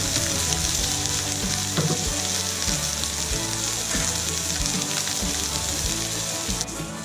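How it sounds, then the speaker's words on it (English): Loud, steady sizzling of steak frying in a hot pan, a continuous crackling hiss with occasional pops throughout. "See that beautiful sizzle?"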